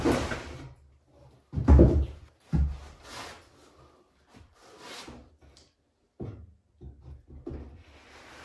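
Crude homemade drawer slide with an eighth-inch spacer on a dust collector's easy-empty barrel, giving a few sharp wooden clunks and short scraping slides at close range, spaced apart with quiet gaps between them.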